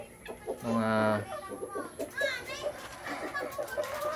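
A Dekalb Brown hen on a small farm gives a short, loud, close burst of clucking, with children chattering and other background noise continuing around it.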